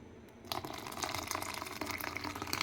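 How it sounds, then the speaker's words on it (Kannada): Water is poured into a ground coconut mixture for a coconut saaru, starting after a quiet moment as a close, continuous splashing gush that grows slightly louder, without talk. "ನಾನು ಇನ್ನು ಸ್ವಲ್ಪ ನೀರು ಹಾಕ್ತಾಯಿದ್ದೀನಿ ಮೇಲೆ"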